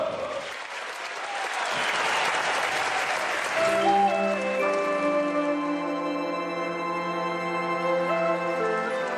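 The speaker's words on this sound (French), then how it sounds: "On applaudit par habitude, pour manifester son respect ou son enthousiasme." A crowd applauds with dense, rushing clapping for a few seconds before sustained musical tones take over and carry on alone.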